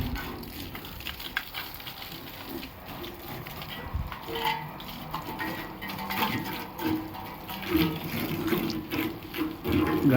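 Water gushes from a motor pump pipe in a steady, moderately loud splashing rush that keeps going from start to finish.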